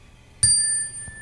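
A large piece of metal falls with a sharp clank and rings out in a long, bright, sustained tone, followed by a second soft knock, close and alone.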